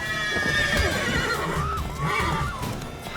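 Horses in The Witcher 3 video game neigh and whinny repeatedly, loud and close, with a few hoof clops beneath the agitated calls.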